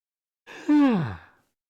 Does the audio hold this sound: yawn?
yes